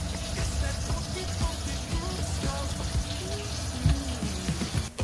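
Hot water runs steadily from a tap into a sink during an under-sink reverse-osmosis water system installation, a continuous close hiss and splash with small clinks.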